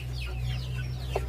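Native Indonesian village chickens (ayam kampung) cluck briefly and faintly over a steady low hum.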